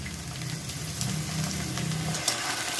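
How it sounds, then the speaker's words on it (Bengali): Cubed potatoes, beans and carrots fry together in a pan of oil, making a continuous crackling sizzle up close with a low steady hum beneath it and a faint clink near the end. "এবার আলু বিনস গাজর ভালো করে ভাজা ভাজা করে নেব"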